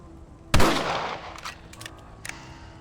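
A single loud rifle shot cracks close by in Red Dead Redemption, its echo tailing off over about a second, followed by a few faint, sharp clicks.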